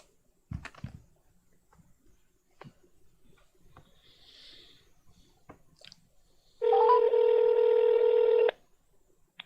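A telephone being dialed: scattered soft clicks and handling noises, then a loud, steady electronic dial tone held for about two seconds, close and clear with no talking.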